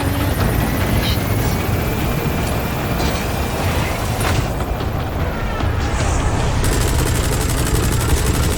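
A helicopter in the Metal Gear Solid 5 video game climbs with a loud, constant rotor roar and dense chopping throughout, with a brief dip in the high end partway through.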